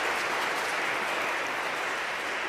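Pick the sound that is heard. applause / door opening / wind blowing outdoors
applause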